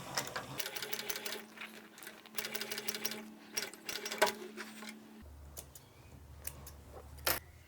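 A flatbed sewing machine stitches a leather shoe upper in quick rapid bursts of needle clatter with brief pauses, close and steady, then falls quiet for the last couple of seconds apart from a faint hum and one click.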